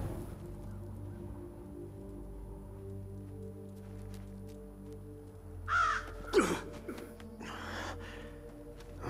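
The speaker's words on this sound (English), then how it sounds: "Bird!" A crow cawing in the medieval combat video game For Honor: a few harsh caws near the middle over a steady low game ambience and drone, close and fairly clear.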